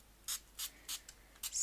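A bottle of gold lamé sparkle mist gives four or five short, close hissing sprays in an uneven rhythm, each burst brief and crisp against near silence.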